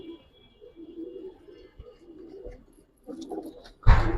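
Giribaz pigeons in a loft give soft, low cooing calls in short bursts, faint and close, with a few thumps and a louder rustle near the end.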